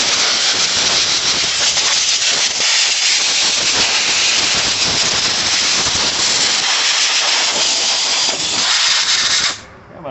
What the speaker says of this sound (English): Now the next step is to hit it with some compressed air